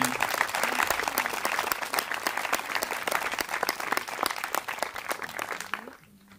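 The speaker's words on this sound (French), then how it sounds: "on peut applaudir bien fort Jésus" Congregation at a church service applauding loudly and steadily, a dense roar of many hands clapping for about six seconds before it fades away, with a voice faintly over it.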